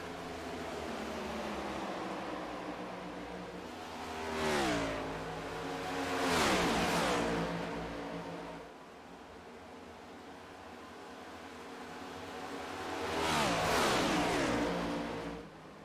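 Race cars in a Gulf Digital Services Cup Series race lapping a track, engines roaring past in waves with rising and falling pitch, several cars passing close by against a steady background drone.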